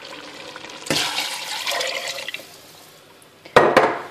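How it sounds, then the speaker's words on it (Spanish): About a liter of water gushes into a pressure cooker holding spices, parsley and chickpeas for couscous, a loud splashing pour that tapers off, then a brief second burst of splashing. "Y añadimos 1 litro de agua."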